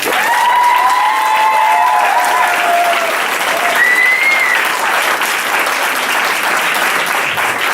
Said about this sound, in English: would you please applaud?